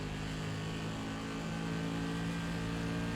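An SK Modified race car engine in the iRacing sim at Thompson Speedway drones loud and steady at high revs, a continuous on-throttle roar with no talking over it.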